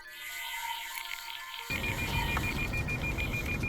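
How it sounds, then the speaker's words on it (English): A Lexus proximity sensor beeps insistently inside the car at a highway intersection, a steady high electronic tone persisting over road and cabin noise. "their Lexus begins to beep out of control."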